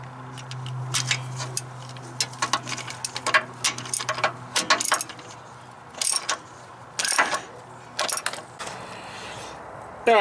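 A ratchet clicks in quick bursts while tightening a knock sensor on a Chevy TBI engine, with short pauses between runs of rapid clicking and faint metallic handling, close and fairly quiet; no talking.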